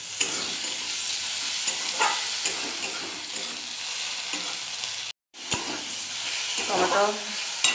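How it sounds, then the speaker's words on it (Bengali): Chopped tomato hitting a pan of fried onions gives a steady close sizzle and frying hiss with stirring scrapes, a brief drop in sound midway, and some voice underneath. "পেঁয়াজ ভাজা হয়ে গেছে, দিয়ে দেব কেটে রাখা টমেটো কুচি।"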